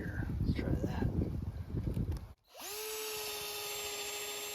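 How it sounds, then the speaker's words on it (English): A Bauer 20V Hypermax lithium 1/2 in. drill/driver fitted with a long auger bit spins up after a noisy handling sound, settling into a loud, steady high-pitched whine. "Got this big long auger bit here. Let's try that."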